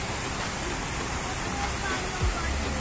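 Continuous rushing flow of water, like a steady cascade or stream, fills the scene as a loud, even wash with no pauses.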